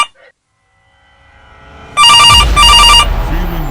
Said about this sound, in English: The phone rang one last time